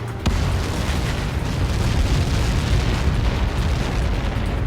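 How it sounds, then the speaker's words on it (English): A large explosion from a missile impact in the Ace Combat 7 video game erupts with a sudden hit and becomes a sustained, loud, rumbling roar that stays steady to the end. "How many got caught in that explosion?"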